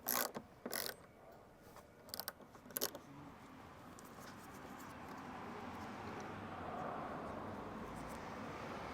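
Metal Allen key turning and ratcheting bolts out of the fuel filler door on a Mk3 Audi TT, giving a few sharp clicking bursts near the start before a steady low background takes over.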